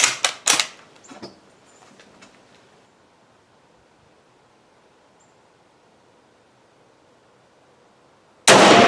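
A Mosin-Nagant rifle firing 7.62x54R handloads at a range, several sharp close shots in quick succession with short echoes, a long quiet stretch, then a loud burst of noise at the end.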